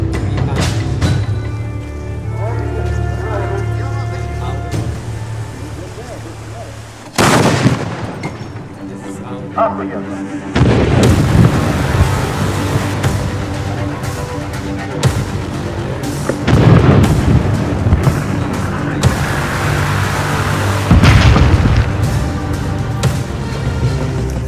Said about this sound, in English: Our 9-pound cannonball is ready to fire, using 3 pounds of gunpowder.